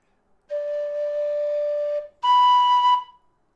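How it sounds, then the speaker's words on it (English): A Lir low D whistle plays two sustained notes in its upper register, a steady second-octave D followed after a short breath by a brighter second-octave B, clear and close with nothing else around them. "Let me do like the second octave D, just gently moving to the second octave B."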